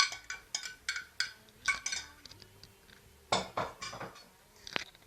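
A utensil stirs canned black and white beans together in a dish, giving a series of rhythmic clinks and scrapes against the bowl, close and fairly quiet, with short pauses between strokes.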